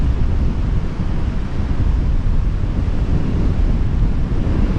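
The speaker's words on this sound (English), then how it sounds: "this beach is very shallow, and therefore the water absolutely flying up" Surf rushing up a very shallow beach at Oxwich Bay on the Gower, a loud continuous wash with heavy low rumble and wind buffeting the microphone throughout.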